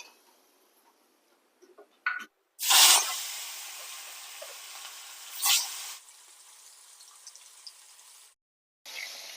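Rohu fish pieces fry in very hot oil with turmeric, giving bursts of loud sizzling and spattering. A sharp hiss rises as the fish goes in, flares again midway and then settles to a steady crackle, broken by near silence and faint clatter.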